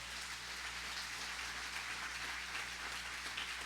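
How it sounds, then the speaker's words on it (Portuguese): A church congregation applauds in a dense, even wash of clapping that sounds somewhat distant and blends into a rain-like hiss. "Aplauda bem forte ao Senhor."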